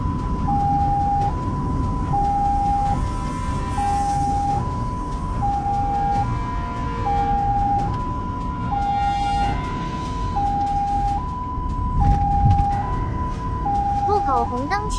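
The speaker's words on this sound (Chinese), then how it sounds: "后方有救护车经过，" An ambulance siren wails in a steady two-tone pattern throughout while the vehicle drives through morning rush-hour traffic, with engine and road rumble below it and a navigation voice speaking.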